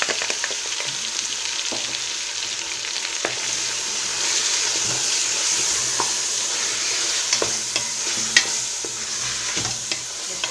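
Onions frying in a pan as the base for a rice dish with meat and peas: a steady, close sizzle with scattered clicks and scrapes of stirring, no voices.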